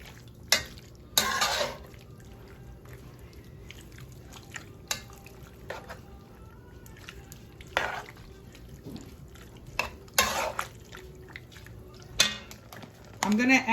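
A spoon stirring meat filling for pasteles in a pot, with scattered scraping clinks of metal on the pot and wet squelching between quieter stretches.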